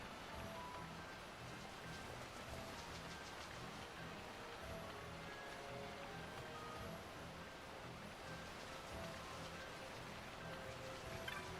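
Steady, faint rainfall in the video game Final Fantasy XII: The Zodiac Age, hissing evenly throughout, a soft continuous patter with no voices.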